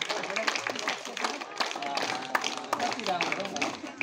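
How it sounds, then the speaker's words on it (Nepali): Steady applause from an audience at a secondary school award ceremony honouring students who passed their SEE exams, a dense patter of claps running throughout. "निरन्तर ताली बजाइदिनु होला विद्यार्थी भाइ बहिनीहरूको सम्मानका निम्ति।"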